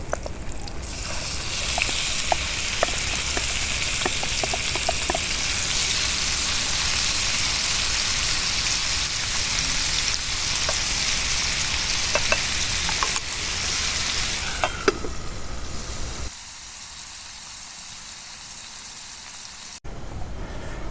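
Vegetables frying in a pan alongside hunter sausages, a steady loud sizzle and hiss with occasional small pops and crackles, dropping away abruptly near the end, no voices.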